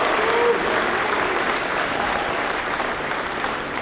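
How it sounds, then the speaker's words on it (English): The Monson High School class of 2018 gives a huge round of applause at its graduation, a steady, loud wash of clapping from a large crowd that holds evenly throughout. "Can we first give ourselves a huge round of applause,"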